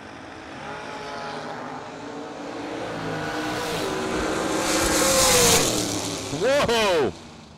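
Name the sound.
drag racing dragster running down the strip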